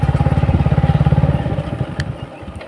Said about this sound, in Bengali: এই যে নৌকাটা স্টার্ট হবো, পরে আবার দেখাইতেছি।